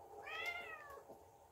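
A single drawn-out Minecraft cat meow, close and clear, rising then sliding down, with a faint second call trailing after.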